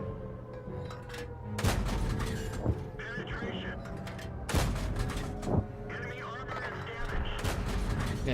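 Tank cannon fire in the World of Tanks video game, with heavy booming shots near 1.7, 4.6 and 5.5 seconds and a fainter one around 2.7, set over continuous engine rumble and mechanical clatter, with talk running throughout.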